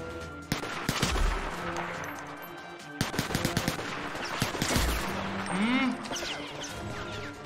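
Bursts of video game gunfire, sharp rapid shots in clusters with some louder single cracks, plus game sound effects in the background.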